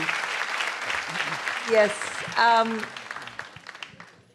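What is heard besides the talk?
audience applause welcoming comedian Papa CJ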